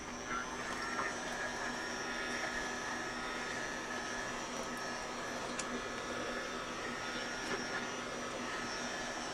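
A handheld dryer blows steadily on wet paint on a piece of artwork, a continuous close whooshing hum that runs unbroken at an even level throughout.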